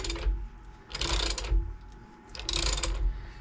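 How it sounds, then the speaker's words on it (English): Half-inch ratchet clicking on a GM 14 bolt axle pinion, two bursts of rapid pawl ratcheting separated by a short pause, close and fairly loud with no talking. "Before I go to the impact, I'm going to go ahead and use my 1/2-inch ratchet."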